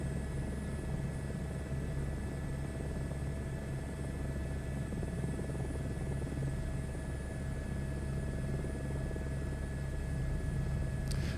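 Helicopter flying over tropical Bora Bora scenery in Microsoft Flight Simulator 2024, a continuous whirring rotor and turbine drone with steady tonal hum, constant in level throughout.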